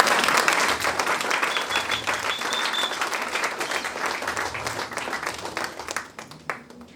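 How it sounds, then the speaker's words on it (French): Church congregation applauding loudly during a French-language sermon, a dense steady wash of many hands clapping that carries on throughout, thins toward the end and leaves a few scattered claps. "Est-ce qu'on peut acclamer le Seigneur?"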